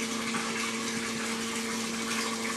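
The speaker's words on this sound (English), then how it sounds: "The water is flowing steadily through the system." Water flows steadily through a laboratory pipe system used for pressure-drop measurements, producing a loud, continuous rushing hiss with a steady pump-like hum underneath and no talking.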